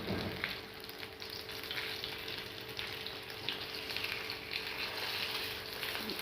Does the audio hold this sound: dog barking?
no